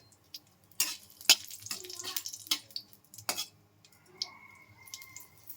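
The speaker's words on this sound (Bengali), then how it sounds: "তো তেলটা গরম হয়ে গেছে, একটু পাঁচ ফোড়ন দিয়ে দিলাম, আর দুটো শুকনো লঙ্কা দিয়ে দিলাম" Panch phoron and two dried chillies dropped into hot oil, giving off intermittent sharp crackles and sputtering bursts close by, with light kitchen clatter between them.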